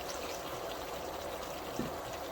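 A small amount of water is poured into pan-fried chicken masala cooking in a pan, giving a steady, soft, hissing trickle throughout with no talking.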